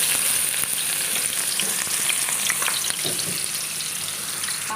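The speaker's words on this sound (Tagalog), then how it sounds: "pagsasabayin ko na baling igisa itong onion and garlic" Onion and garlic sauté in hot oil for a spaghetti sauce, giving a steady, loud sizzle and crackle with no pauses and a few faint stirring scrapes.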